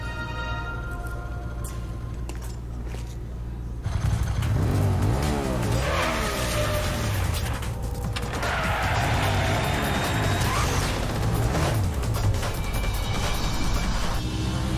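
A motorcycle roars in a Devil May Cry 3 cutscene, its engine revving loud and close and rising in pitch, with a crash-like burst partway through.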